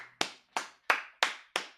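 Five crisp hand claps in a steady, even rhythm, close and sharp, each with a quick decaying tail, with no voices over them.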